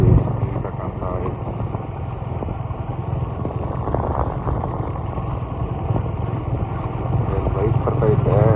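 A motorcycle rides along with its headlight on in the early morning, a steady low engine drone running throughout under the rider's speech.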